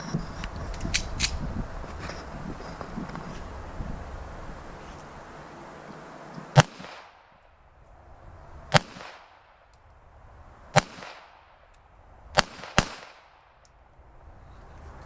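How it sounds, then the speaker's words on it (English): A Sig Sauer P238 pistol fires outdoors: about five sharp, loud single shots spaced a second or two apart, each cracking with a short echo, after some earlier handling noise. "Just got to draw the slide back and get to firing."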